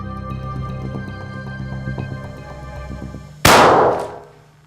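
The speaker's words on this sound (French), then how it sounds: "Jean-Claude Schlinger utilise un fusil de chasse calibre 12" A single sharp, very loud blast from a 12-gauge hunting shotgun, about 127 decibels, cuts through a murky background hum and rings out, decaying over about a second.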